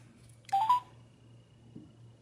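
A few quick phone dialing tones play through a waterproof Bluetooth speaker as a call is placed to a customer care line, with short beeps in a brief burst against a faint background hum.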